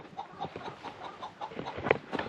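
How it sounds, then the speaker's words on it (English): Several backyard chickens cluck in quick, uneven bursts close by, a busy, moderately quiet chatter of short calls. "get some noisy chickens"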